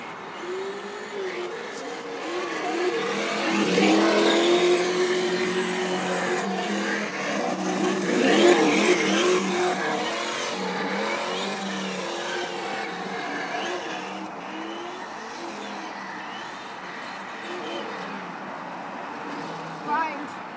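A Traxxas Slash radio-controlled car driving nearby, its small electric motor whining and rising in pitch as it accelerates, with a brief sharp sound near the end.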